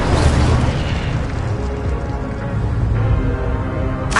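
An Incendio fire spell cast in Hogwarts Legacy, a loud, sustained roaring burst of flame with a dense rumbling body that holds steady for about four seconds before a sharp cutoff.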